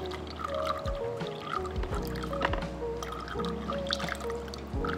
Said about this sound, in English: You can pour fast and you can pour slow.